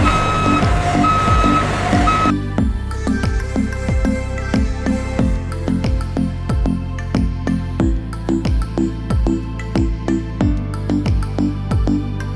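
A refrigerated truck hauling McDonald's fries backs up, its reversing alarm beeping in a steady, evenly spaced series over a low engine rumble, loud and close with no talk.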